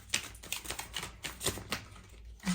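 Tarot cards shuffled by hand give a soft, continuous riffling and flicking, close and fairly quiet, with no one talking.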